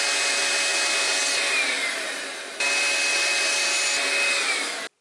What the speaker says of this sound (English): I'm just using my Makita Hoover underneath to catch all the dust